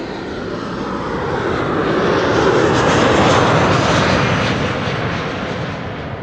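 An airliner arriving at Amsterdam Schiphol Airport roars overhead, its engine noise swelling to a loud, broad rush at the midpoint before slowly fading as the plane passes.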